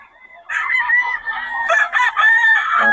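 A young rooster (stag) crows loudly and close at a market in Bocaue, one drawn-out, wavering crow that starts abruptly after a short quiet moment.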